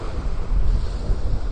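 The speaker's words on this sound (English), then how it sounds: "I love the sound of waves too" Ocean waves wash onto a snowy winter beach in Rhode Island after a snowstorm, a steady loud rumble of surf mixed with heavy wind buffeting the microphone throughout, with no voices.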